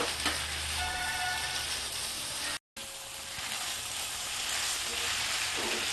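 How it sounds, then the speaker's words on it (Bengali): Young jackfruit sautéing with spices in a pan, Bengali style, gives a continuous bright sizzle and hiss, with a brief cut to silence partway through. "মাংস যেভাবে কষে কষে রান্না করে ওইভাবেই এঁচোটা কষে কষে রান্না করতে হবে অল্প অল্প জল দিতে হবে আর কষতে হবে"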